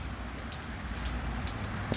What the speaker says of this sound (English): the rain's coming down in bucketfuls